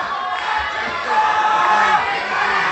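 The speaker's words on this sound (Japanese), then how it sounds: "再びの勝人コール" An arena crowd at a pro wrestling match chants a wrestler's name, Katsuhiko Nakajima, with rhythmic rising-and-falling group shouts repeating over a loud, sustained crowd roar.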